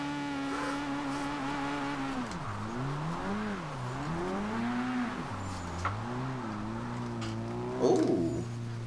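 A Nissan Silvia S15 engine in Forza Horizon 2 drifts with revs rising and falling, then sags low as it bogs down, a loud continuous tone with a brief tire burst near the end.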